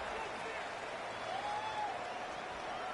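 Steady crowd noise from a College Football 26 video game stadium, a dense, even roar that holds at the same level throughout, with a faint tone drifting through the middle.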